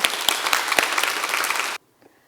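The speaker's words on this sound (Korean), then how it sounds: "우리 송영경 집사님 큰 박수로 맞이해 주시기 바랍니다" A church congregation at a testimony service claps loudly to welcome a speaker, with dense overlapping handclaps and a few sharp louder claps that stop abruptly, followed by near silence.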